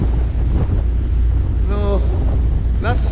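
Strong wind buffets the microphone on a fishing boat off Point Pleasant, New Jersey, with a constant low roar, and brief bits of a voice come through near the end.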